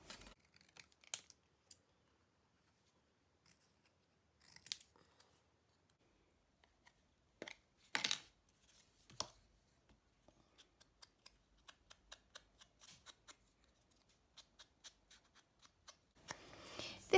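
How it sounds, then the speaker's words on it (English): Scissors cutting out kraft card tickets, with sparse, quiet snips and crisp cuts scattered through a near-silent room, some closer and sharper, followed by a brief rustle of card at the end. "I'm going to get those cut out."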